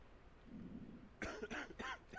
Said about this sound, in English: Alright, so he has a cough.